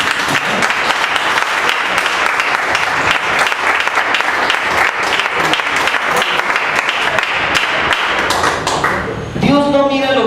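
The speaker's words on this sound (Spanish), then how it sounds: "Denle un aplauso al Señor." A church congregation at a Spanish-language service claps for about nine seconds, a dense, loud ovation of many hands. A voice speaks briefly as the applause ends.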